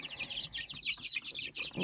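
A crowd of chicks peeping steadily, their high, thin chirps overlapping in a busy, continuous chatter with no voices.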